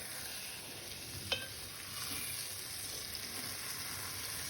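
Ridge gourd and egg curry gets stirred in a pan on low heat, a faint scrape against the pan over a soft, steady simmering sizzle.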